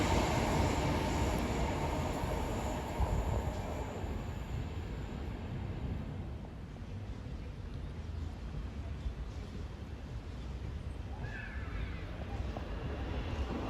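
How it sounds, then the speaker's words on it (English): A Class 390 passenger train on the West Coast Main Line passes, its broad rushing roar loudest at the start and easing to a steady rumble that continues throughout. "A Class 390 enters."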